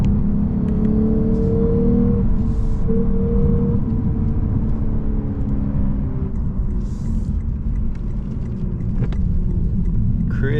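A 2023 Lexus RC 350 F Sport engine drones steadily from the cabin while driving, a loud, continuous low rumble with a brief rise in revs early on.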